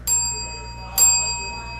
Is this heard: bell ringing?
yes